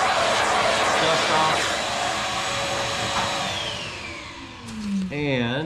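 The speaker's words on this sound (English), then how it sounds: "I've got my little shop vac here." Small shop vac clearing dust off model rocket fins, its loud whining motor roaring steadily close by, then dropping in pitch as it powers down near the end while a voice begins speaking.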